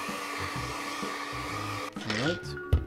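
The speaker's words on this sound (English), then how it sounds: "a hairdryer. And we're going to heat up the latex." Hairdryer heating liquid latex for a cosplay bald cap, a steady close blowing hum that shifts and wavers near the end as the dryer is moved.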